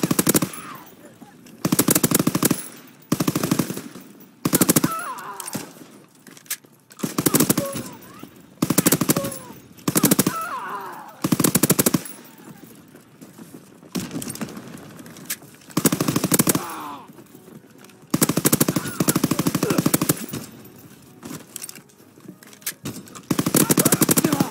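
Automatic and rifle gunfire in the World War II shooter game Call of Duty WW2, with repeated loud bursts of rapid shots broken by short pauses, continuing steadily through the whole stretch.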